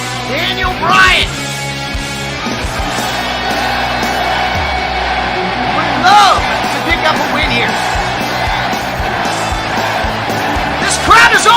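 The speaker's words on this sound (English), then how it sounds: "This crowd is overwhelming" A wrestling arena crowd roars and cheers loudly and continuously at a live pro wrestling event, with whoops and yells rising in bursts, under a commentator talking throughout.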